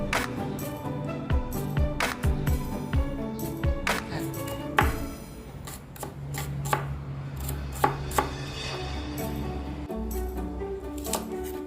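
Kitchen knife chopping green onions and onions on a board for a Vietnamese-style stir-fry, quick rhythmic taps in bursts, close and crisp, with occasional sharper clacks and a low background hum.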